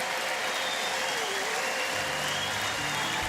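A church congregation applauds in dense, continuous clapping that fills the room, with a low engine-like rumble rising underneath near the end.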